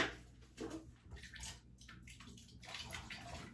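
Water sloshing and trickling as a sponge is dipped and worked in water during bathroom cleaning, a close, intermittent wet splashing sound with soft gurgles, no talking.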